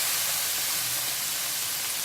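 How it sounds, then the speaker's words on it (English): Beans being refried in a hot pan give off a loud, continuous, bright hissing sizzle, close and steady throughout with no voices. "You hear that sizzle, guys?"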